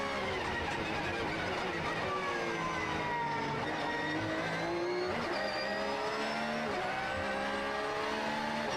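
A GT race car laps the Beijing circuit in a GT World Challenge Asia race, its engine loud and close, revving and shifting through gears in rising and falling sweeps, with faint commentary underneath.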